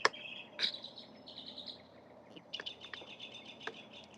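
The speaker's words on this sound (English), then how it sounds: "Y'all hear those birds? They out here chirping like crazy." Birds chirp and tweet outdoors in repeated bright bursts, a cluster of calls at the start and another run of quick chirps later, moderately near over faint background hiss with no talking.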